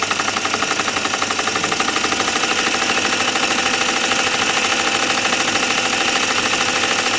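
A small PM Research dynamo spins at about 700 RPM, giving off a steady, fast, rhythmic mechanical whirr and clatter that stays loud and even throughout, with no talking.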